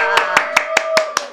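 A studio host claps in a quick, even rhythm of about seven sharp, close claps over a sustained voice-like tone.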